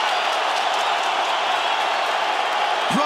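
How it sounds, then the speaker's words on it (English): A Brooklyn arena crowd roars continuously behind two fighters in the last minute of a bout, a dense sustained wall of cheering with no break. "Brooklyn crowd getting behind these 2 warriors"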